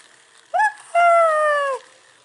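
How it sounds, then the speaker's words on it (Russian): A small dog gives two close, whiny vocalizations, a short rising yelp and then a longer drawn-out whimper-howl that tails off, with no other sound around it. "Кто это? Кто это собачка?"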